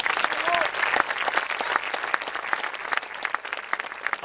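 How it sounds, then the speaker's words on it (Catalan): An open-air audience at an Altafulla havaneres singing event claps heartily for the festival founder. Dense applause, close and lively, with some voices mixed in. "També un fort aplaudiment per ell."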